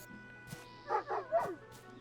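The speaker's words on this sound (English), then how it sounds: "Oh, look at the doggy." A dog in the video game Sword & Fairy gives a few short yipping barks and a whimper in quick succession, moderately close, over a faint steady game background.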